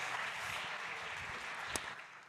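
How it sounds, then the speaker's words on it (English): An audience at a consumer startup competition applauds, a faint, continuous hiss of many hands clapping at a distance, with one sharp louder clap near the end. "Big applause for Francis."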